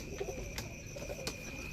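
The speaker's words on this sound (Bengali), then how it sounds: "5 জোড়া কবুতর আছে এখানে।" Teddy pigeons coo softly in a few low, murmuring phrases over a faint steady background hum, with no talking.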